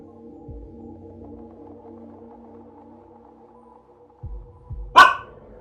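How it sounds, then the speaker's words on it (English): A dog gives a single sharp bark near the end, close and loud, after a few low rumbling sounds over a steady background hum. "What are you barking at?"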